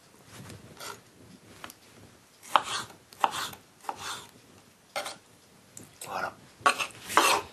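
A knife coarsely chopping tomatoes on a cutting board, an irregular run of close, crisp cuts and taps in short bursts separated by brief pauses.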